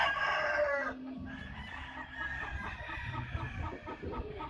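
A stud rooster crows close by in one loud, drawn-out call, followed by softer clucking and low farmyard noise, with no talk.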